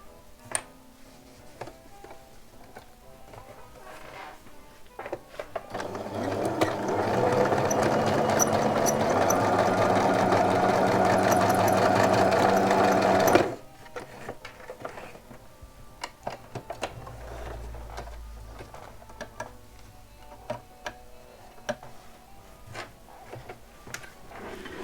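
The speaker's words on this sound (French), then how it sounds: "Alors on retourne à la machine à coudre. Et on va coudre à 1 cm du bord." A domestic sewing machine stitches fabric one centimetre from the edge, running in a steady mechanical whir for several seconds, framed by quiet handling clicks before and after.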